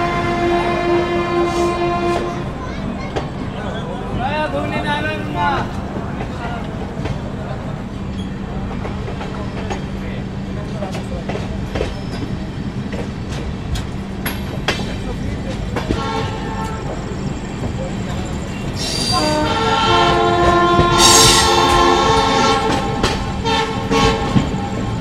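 A passenger train runs along the railway toward Rampurhat in India, with a steady close rumble and clatter throughout and louder horn toots near the end.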